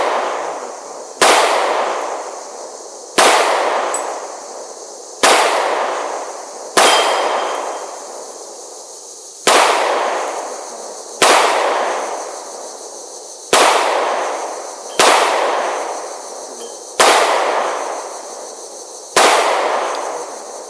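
Gunfire at an outdoor shooting range: about ten loud, sharp shots at irregular intervals of one to two seconds, each with a decaying echo tail and no talking in between.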